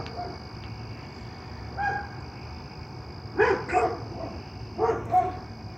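A neighbor's dog barks at night, a few separate bark bursts at moderate distance over a steady background hum, with quieter stretches in between.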